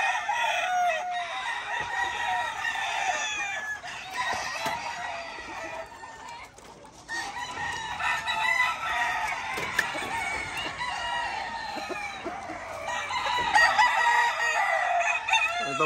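Gamecock roosters in a Puerto Rican cockfighting yard crow repeatedly at moderate distance, calls overlapping and answering one another over steady clucking, with no talk.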